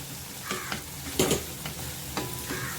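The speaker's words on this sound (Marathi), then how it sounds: "थोडं चमच्याच्या उलट्या साईडने त्याला स्मॅश करायचं आहे" Softened tomatoes in a pan pressed and mashed with the back of a spoon: a few soft, dull knocks and squelchy scrapes over a faint low sizzle, close and brief.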